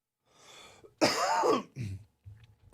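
Someone clears their throat with a rough, harsh rasp, then gives a couple of short coughs, close and alone.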